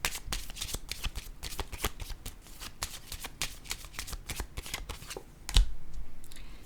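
Tarot cards are shuffled and drawn in a rapid, crisp series of riffling flicks, close and clear, ending with a single sharper slap as a card is laid down.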